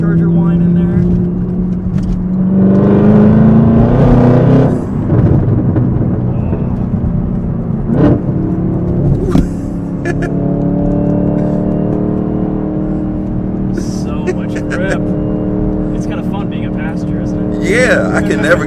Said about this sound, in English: You get just a little bit of supercharger whine in there.